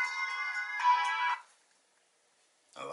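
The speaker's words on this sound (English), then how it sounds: "There's the phone." A phone ringtone rings once loudly and close in a quiet room, a bright tonal electronic melody that stops abruptly, followed by silence and then a brief sound at the end.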